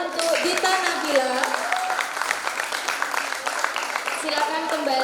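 Sustained applause from an audience at a pageant-style selection ceremony, steady clapping filling the room while a voice and tonal sounds carry over it throughout.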